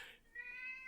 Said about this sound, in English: Hold on, I gotta move the cat.